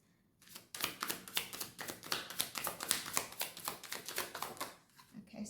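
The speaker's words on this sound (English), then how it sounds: "We're going to shuffle again." A tarot card deck being shuffled close by in a fast run of rhythmic riffling bursts lasting several seconds, fairly quiet, starting and ending softly with no talk over it.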